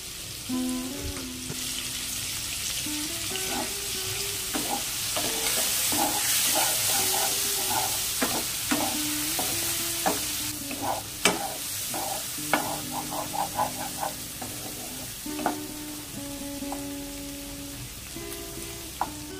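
Shrimp frying in a pan with salt and turmeric, a continuous close sizzle with repeated scraping strokes of stirring and occasional spatters, no talking.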